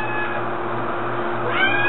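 A house cat meows in a steady, drawn-out way close by, with a brief rise in pitch near the end and no talk.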